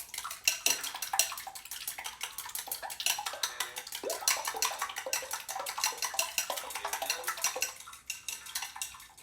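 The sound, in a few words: beating egg mixture in a bowl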